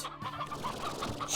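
Chickens in a video game cluck in a short burst of a few quick, close clucks over faint background noise.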